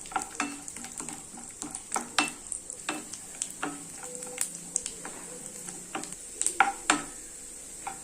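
Cashew nuts roast in a hot pan for broken wheat payasam, a bright steady sizzle broken by frequent sharp clicks and scrapes as the nuts are stirred and knocked against the metal.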